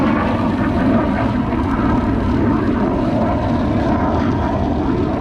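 Drone flying low overhead and doing acrobatic manoeuvres above a vineyard: a loud, steady, continuous propeller drone and whine throughout, close and unbroken, with no talk.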